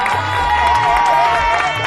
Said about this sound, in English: I want you to give the men a round of applause